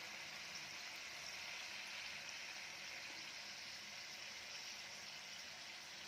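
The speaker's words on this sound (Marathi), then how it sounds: "अशाच सोनेरी रंगावर आपल्याला हे फ्राय करून घ्यायचं आहे" Karanji pastries deep-frying in hot oil, giving a steady, soft, continuous sizzle and bubbling hiss with no breaks or voices.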